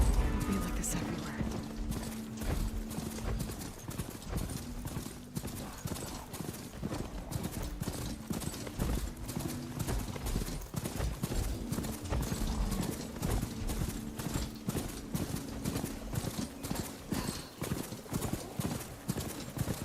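Horse hooves galloping in Horizon Forbidden West, a fast rhythmic clip-clop running continuously and close, with voices speaking over it in places.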